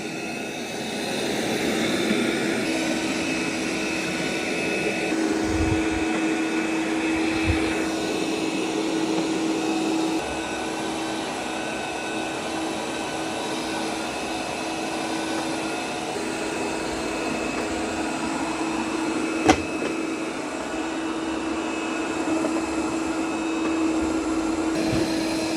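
An iRobot Roomba robot vacuum cleaner runs with a continuous whirring motor hum and a steady tonal whine, its pitch shifting slightly as it moves, with a sharp click midway.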